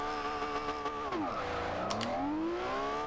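A 2010 Lamborghini Murcielago LP 670-4 SV engine snarls in the Forza Horizon 2 racing game, its pitch sweeping down then climbing again in a continuous loud rev, with a brief tire squeal.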